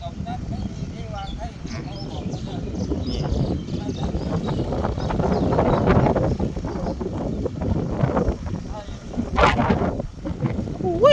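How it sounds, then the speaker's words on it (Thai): Strong wind buffets the microphone outdoors in a constant rough, roaring rumble that swells and dips, while people talk close by underneath it. "ลมแรงมาก"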